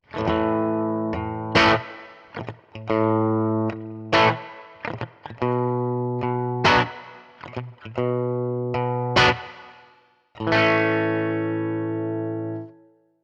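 Clean electric guitar plays a twangy country phrase through a Fractal preset, with plucked notes and ringing sustained chords separated by brief pauses, clear and close.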